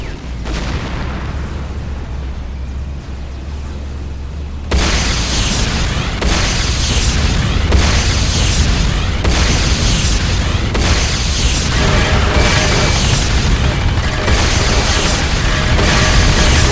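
C4 explosives detonating in the video game Renegade during multiplayer combat: after a quieter stretch, a sudden loud blast opens a long, dense rumble of booms and gunfire that stays close and continuous.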